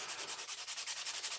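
Rapid, even back-and-forth sanding strokes on a Japanese Santoku kitchen knife being made by hand, a close hissing rub repeated about ten times a second with no voices.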